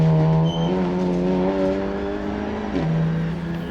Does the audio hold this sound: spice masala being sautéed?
no